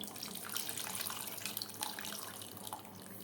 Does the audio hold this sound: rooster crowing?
no